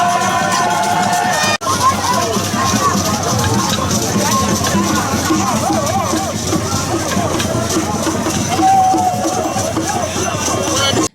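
A large crowd cheers and shouts loudly and continuously at an FCBE political rally in Lobogor, Benin. The noise holds steady with dense babble, and there is a brief dropout early on.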